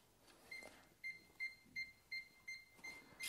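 A Uni-T UT203 clamp meter beeping while testing a wire for continuity: seven short, evenly spaced high electronic beeps, fairly faint against a quiet background, with no talking.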